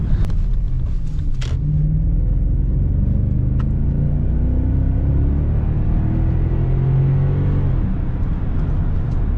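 BMW X5 E53 V8 engine accelerating smoothly, a steady low rumble with rising engine tones heard from inside or near the car, continuous and fairly loud, with no talk.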